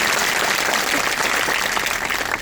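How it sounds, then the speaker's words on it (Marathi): Loud, dense applause from a large crowd at a protest gathering in Nandurbar held by ASHA workers, group promoters and part-time female attendants against the central government, honouring students who fasted for 25 days; continuous and close throughout. "त्याबद्दल सुद्धा जोरदार टाळ्या वाजून त्या विद्यार्थ्यांचं अभिनंदन केलं"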